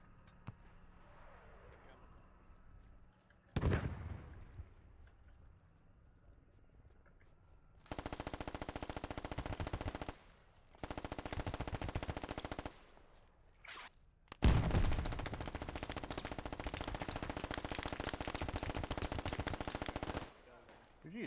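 Bursts of automatic gunfire from a squad-based shooter game ring out in several long sustained strings after quieter stretches, loud and close, with a sharp single shot before them.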